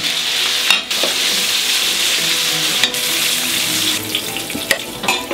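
Onions, lardons and mushrooms frying in a pan, a loud continuous close sizzle with occasional sharp clicks and scrapes of stirring, no talking.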